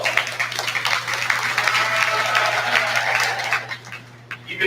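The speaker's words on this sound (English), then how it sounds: "If you would give these young people a big round of applause." An audience applauds young 4H sheep exhibitors at a county sheep show, a steady round of clapping that holds for about four seconds before tapering off, with a low steady hum underneath.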